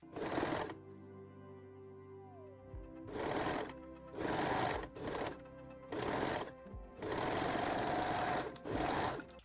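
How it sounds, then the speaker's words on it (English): A serger sewing machine stitches a seam in short and long bursts of fast mechanical whirring, separated by brief pauses with a quiet hum and a soft whine between runs. "Now we can sew the seam using a serger or zigzag stitch."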